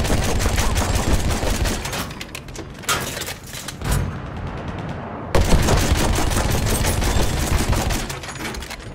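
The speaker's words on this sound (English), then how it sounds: "There's an enemy machine gun!" Battlefield 1 battle on the River Somme map, with dense machine gun fire in rapid bursts, loud and close, along with overlapping gunshots and a brief lull before the firing resumes.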